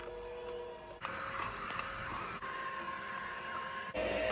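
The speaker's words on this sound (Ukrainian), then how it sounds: "вирішила показати, як працює цей соковитискач" Tefal ZC420 slow auger juicer squeezing tomato juice, a steady low motor hum and grinding whir with a few faint clicks and knocks, running alone without talk.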